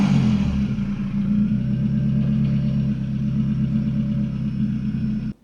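A tuned 1999 Ford Focus 2.0 16v engine and exhaust hold a steady, deep, loud rumble that runs close and alone for about five seconds before cutting off abruptly.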